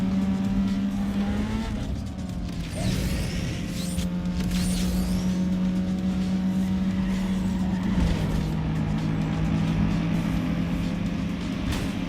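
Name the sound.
racing car engine in Need for Speed Underground 2 video game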